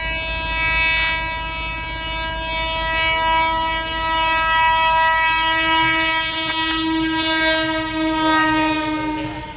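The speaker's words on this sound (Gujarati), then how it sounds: "માલ ગાડી છે" A long freight train passes close by, its horn sounding a sustained, loud tone over the rumble and clatter of the wagons, with no talk.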